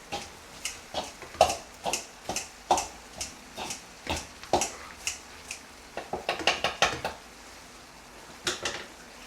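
A spoon stirs a fajita mix of softened onions in a metal pot, making a rhythmic run of clinks and scrapes against the sides, close and fairly loud, pausing briefly near the end.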